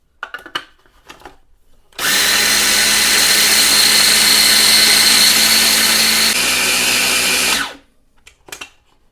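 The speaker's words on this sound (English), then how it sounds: "I'm going to start by grinding up and making 3 cups of oat flour" A countertop blender grinds oats into about three cups of coarse oat flour, roaring loud and steady for roughly six seconds before cutting off, with faint kitchen handling sounds on either side.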